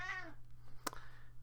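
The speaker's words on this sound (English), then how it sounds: "sorry, that's my cat LeBron" A pet cat gives one clear, close meow indoors while someone plays a video game, followed by a brief rustle and a quiet room hum.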